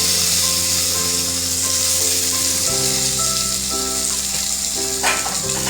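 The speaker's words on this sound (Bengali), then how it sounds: "আমি টমেটোগুলো এতে দিয়ে দেবো।" Chopped tomatoes hitting a hot pan for a chutney in a Bengali thali: a loud, steady, close sizzle that fills the whole stretch, with a low hum underneath and no voices.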